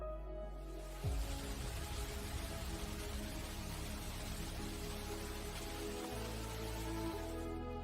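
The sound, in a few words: Rain Vortex indoor waterfall at Changi Airport, Singapore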